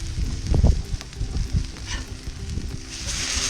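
Ahi tuna steaks searing on a Weber Q griddle, steady sizzle with a few low thumps and crackles, moderately loud and close, no talk.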